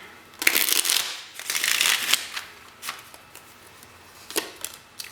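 Cards riffle and slap together in a few quick bursts, close up, with short pauses between shuffles and no voices.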